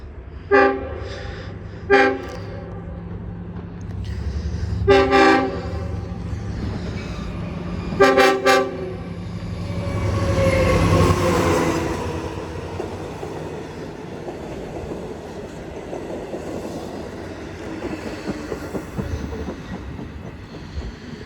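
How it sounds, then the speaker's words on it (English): A train rolls through Greenlawn on an uphill grade, sounding several short horn toots in separate bursts before a long rumble and clatter of passing cars builds and holds, loud and close. "Trains flying all the time."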